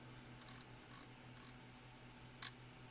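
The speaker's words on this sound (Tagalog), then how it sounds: "gumagana yung shutter release." A film camera's shutter release mechanism, freshly fitted with new light seals, clicks four times at close range: three light, evenly spaced mechanical clicks and then a sharper, louder snap against a quiet background.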